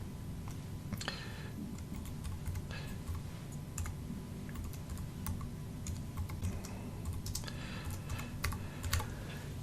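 Rapid, steady keystrokes clatter on a computer keyboard, close and continuous, with a low background hum.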